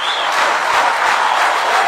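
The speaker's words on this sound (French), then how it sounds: "Un tonnerre d'applaudissements." Audience applause fills a live evening show honouring a featured singer: steady, dense clapping from a crowd, continuous and fairly loud throughout with no pauses.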